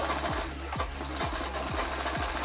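A sewing machine stitches a prince cut blouse, running steadily at close range with a regular thumping beat about twice per second throughout.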